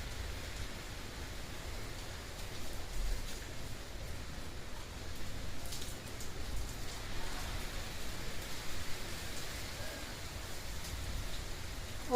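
A storm's heavy downpour keeps up an even, broadband rush of rain, steady and fairly close for several seconds with no one talking.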